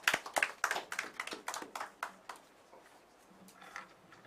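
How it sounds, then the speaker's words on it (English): Sparse, scattered clapping from a small audience at a formal coalition meeting in Ghana, several close sharp claps in the first two seconds thinning to a few faint, distant ones. "Let's please give him a round of applause."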